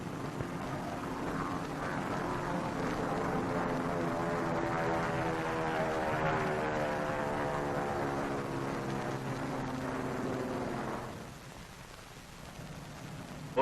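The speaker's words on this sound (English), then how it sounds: "Here is one of the drone airplanes flying over the target fleet after the blast." A drone airplane flies over the target fleet at Bikini after the Operation Crossroads nuclear test, its propeller engine a steady, droning roar that holds for several seconds before fading.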